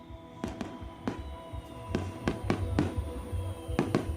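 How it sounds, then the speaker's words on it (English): Fireworks bursting at a celebration in Mexico, a scattered series of sharp distant bangs and crackles over a low rumbling crowd background. "Fireworks exploded above, cheers rose up from the crowd"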